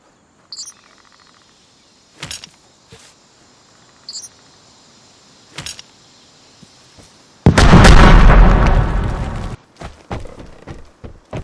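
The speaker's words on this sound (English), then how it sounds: "once again, blow myself up" A player blows himself up in the shooter Vigor with a sudden, loud, roaring explosion that follows a few scattered sharp pops and quiet chirping ambience, then fades into more isolated cracks.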